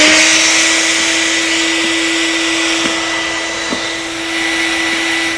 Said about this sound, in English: Make sure your shop vac is properly grounded and turn it on.